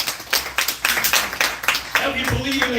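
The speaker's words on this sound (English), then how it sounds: "Give yourself a round of applause." A live audience claps and applauds at a celebration of a comic book launch, a dense patter of hand claps with a voice talking over it.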